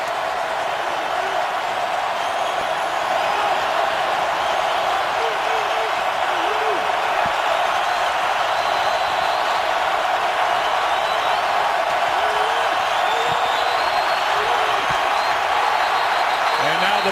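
A stadium crowd at an NFL game between the San Francisco 49ers and New Orleans Saints in 2012 roars in a steady, dense wash of noise on third down. The roar holds loud and unbroken throughout.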